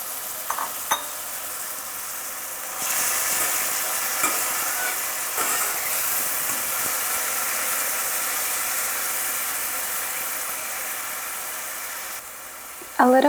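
Tomato hits a hot pan of Mexican black beans and sizzles strongly, a bright steady hiss with occasional scraping stirs, close and without talk.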